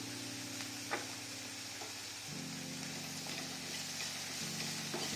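Sliced onions with salt and turmeric sizzle steadily in a pan for a paneer masala curry, a constant moderate frying hiss with faint stirring scrapes and no voices.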